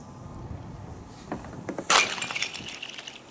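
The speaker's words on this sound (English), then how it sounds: "That noise it makes is ice scooting across ice." Ice sliding and skittering across the frozen surface of a deep lake in November, a faint scraping hiss that builds into a brighter crackling, tinkling burst near the middle and then fades, heard outdoors without talk.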